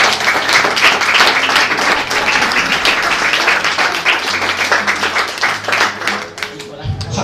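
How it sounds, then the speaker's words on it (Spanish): A church congregation applauds loudly and steadily, a dense wash of many hands clapping close by, with voices mixed in and a lone voice speaking near the end as the clapping fades. "Denle un aplauso a Dios"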